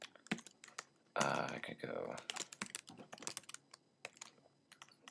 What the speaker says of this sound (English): let's say I wanted to type in plain text